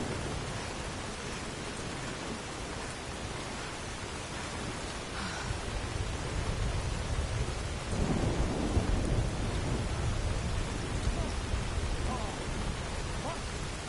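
Steady heavy rain pours in a Skyrim game world, with low rolling thunder swelling midway and lingering under the constant hiss of the downpour.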